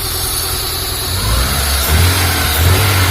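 Honda Civic Genio engine being tuned after an injector check, idling loudly and then revving up in a couple of rising surges, close and steady with no talk.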